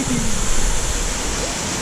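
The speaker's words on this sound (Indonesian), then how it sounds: "pengarah acaraku Ahmansyah tiba-tiba melompat dari atas air terjun Ciangin" Curug Ciangin waterfall in West Java, a loud, steady broadband roar of falling water that fills the whole clip, with a faint voice-like tone briefly at the start.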